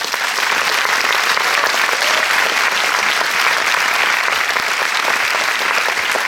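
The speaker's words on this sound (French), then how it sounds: "si vous voulez bien les applaudir." Packed Paris premiere audience of Frankenstein at the Cinémathèque française applauds the Netflix France partners, loud, dense and unbroken clapping filling the room from start to finish.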